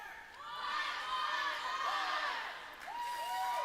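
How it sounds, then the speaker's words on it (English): Crowd at a U18 female B hockey provincials game between Beaverlodge and Lakeland, cheering and whooping steadily across the whole stretch, with rising shouted voices standing out above the broad roar of the stands. "Beaverlodge getting the chant from the crowd"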